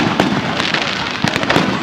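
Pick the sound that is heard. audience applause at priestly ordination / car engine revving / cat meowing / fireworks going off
fireworks going off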